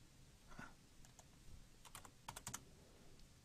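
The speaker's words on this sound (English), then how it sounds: "I'm typing 15 feet." Faint, quick keystrokes clatter on a computer keyboard in short irregular bursts, quiet and close.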